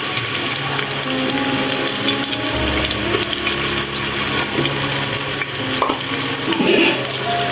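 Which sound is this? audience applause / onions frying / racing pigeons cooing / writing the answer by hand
onions frying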